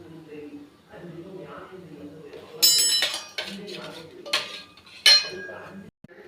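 A spoon scrapes and clinks against a metal pot while milk is stirred into a pearl millet mixture, with several sharp bright clinks standing out over someone talking quietly.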